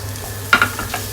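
Chopped onions hit a hot pan and crackle briefly, with a couple of quick clinks and a sizzle rising over a low background hum.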